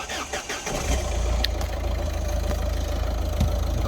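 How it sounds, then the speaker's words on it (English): A Ford Fiesta 1.4 TDCi diesel with a replaced engine and a boost fault cranks briefly and catches, then settles into a steady, close, rumbling idle. "So I'm going to start her up."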